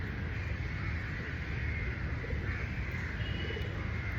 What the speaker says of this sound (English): The endless sound of the birds continue.